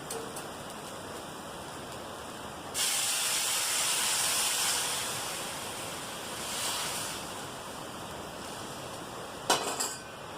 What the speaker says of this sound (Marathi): आता मी ह्याच्यात गरम पाणी उकळलेलं पाणी ह्याच्यामध्ये घालणार आहे